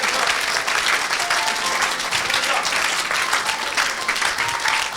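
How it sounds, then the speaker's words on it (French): A crowd at an evangelistic church gathering claps loudly and continuously in acclamation of Jesus, a dense, unbroken wash of applause throughout. "acclamez pour Jésus"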